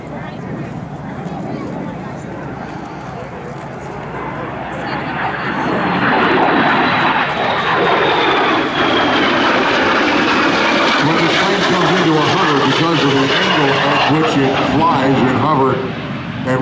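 Jet airplane at the NAS Patuxent River air show flying a fast pass at 350–400 knots, its roar swelling from a distant whine to a loud sustained rush, with an announcer talking over it.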